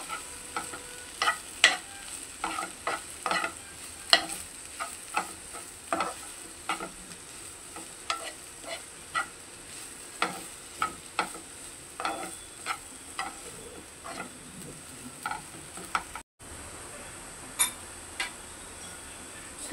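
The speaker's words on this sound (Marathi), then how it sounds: "आता आपण त्याच्यामध्ये हे मसाले घेतलेले आहेत ते टाकूया आणि व्यवस्थित मिक्स करून घेऊ" A spoon stirs spiced potato masala in a pan over a low gas flame, with repeated close scrapes and taps against the pan above a soft, steady sizzle and no talking.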